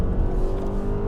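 A 2021 Toyota Camry XLE AWD with a 2.5-liter four-cylinder engine accelerates while merging onto a highway, a steady low engine drone and road rumble heard from inside the car, with no talking.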